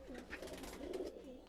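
A male racing pigeon coos softly in repeated low, throaty phrases, fairly close, with no one talking.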